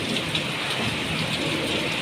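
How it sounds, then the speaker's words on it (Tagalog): Heavy rain pours in a dense, continuous roar with gusty rushing wind during a whirlwind storm, loud and close, with no voices. "Bumibigla yung ulan guys ng malakas. Kasama yung hangin tsaka yung ulan nga."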